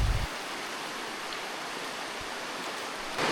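An underground river flows through a cave, a steady broadband rush of water that stays even and constant throughout with no voices.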